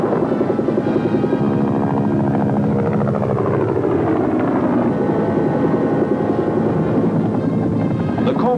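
A Huey Cobra attack helicopter flies over a Vietnam setting, its loud continuous rotor thump and engine drone filling the whole stretch, with a voice speaking over the noise.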